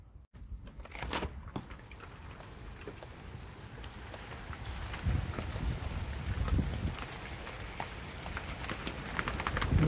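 Heavy rain beating against a window on a grim evening, with gusts of wind, a steady broadband patter that swells louder toward the end, heard alone with no talking.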